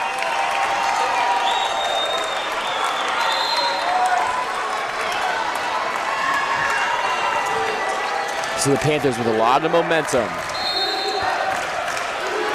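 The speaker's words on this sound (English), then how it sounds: "Their crowd on this side of the court getting loud right now on this defensive chant." A loud home crowd at a high school district boys basketball game between Mead and Richland roars and chants during a defensive possession. The noise stays continuous and dense, with a commentator talking over it.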